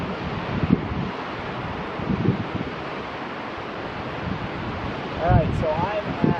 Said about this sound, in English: so I can get all of the waterfall all the way down to the river